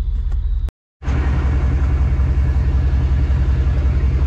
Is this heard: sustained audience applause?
no